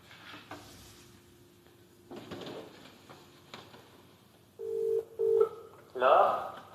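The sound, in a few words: telephone call being dialled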